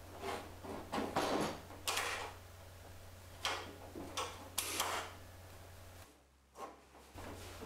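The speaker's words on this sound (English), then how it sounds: "go ahead and check the latch for proper function" Metallic latch on a 1933 hot rod door being worked repeatedly, a series of sharp clicks and clunks spaced a second or so apart, close and fairly loud over a low steady hum.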